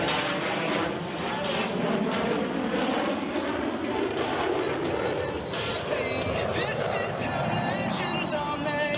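Four Blue Angels F/A-18 jets roar overhead at the 2021 Great State of Maine Airshow, a loud sustained jet engine rumble with shifting pitch over the crowd while an announcer talks over it.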